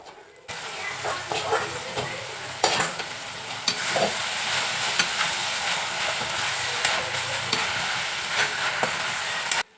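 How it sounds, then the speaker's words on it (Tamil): Okra stirred and sautéed in a pan with onion, tomato and green chili, a steady loud sizzle with repeated scraping stir strokes throughout, no talking. "இது கூட வந்து வெண்டைக்காய் நம்ம சேர்த்துக்கலாம்"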